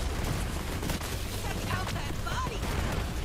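The Plague Bearer weapon fires in a video game, a constant dense barrage of loud blasts and crackling impacts, with a few faint tonal blips mixed in.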